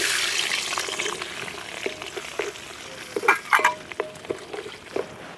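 Garlic sizzling and frying in hot oil, a steady crackling hiss with occasional stirring clinks and scrapes, close by.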